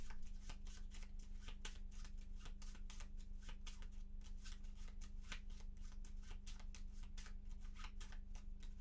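A deck of cards is shuffled by hand for a solo game of the Maquis board game, a quiet, quick run of soft riffling flutters and taps close by, with nothing else over it.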